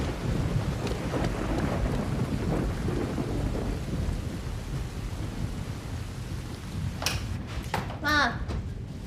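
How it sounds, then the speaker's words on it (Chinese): Steady rain with rumbling thunder, heard in a light evening rain; the wash of rain runs throughout, with brief higher sounds like voices or movement near the end. "这点小雨我平时都不打伞"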